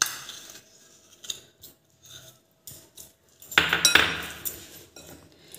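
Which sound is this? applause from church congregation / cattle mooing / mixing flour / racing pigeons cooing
mixing flour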